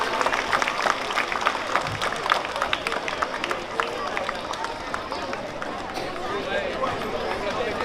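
A school audience claps throughout a Republic Day prize ceremony, steady and dense from start to finish, with a few brief voices mixed in.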